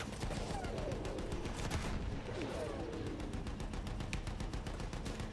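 Distant gunfire in Battlefield 1, a steady rattle of rapid automatic shots that runs without pause, mixed with a low rumbling battlefield din and a couple of faint whistling sweeps, fairly quiet overall.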